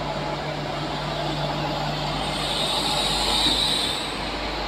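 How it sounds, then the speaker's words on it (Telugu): The Chennai Central–Visakhapatnam Superfast Express 22851, hauled by a WAP-4 electric locomotive, makes a steady, loud, continuous rumble with a faint low hum, unbroken throughout. "అది Chennai central Visakhapatnam super fast express 22851 అసాన్సల్ వ్యాప్ 4 అండి"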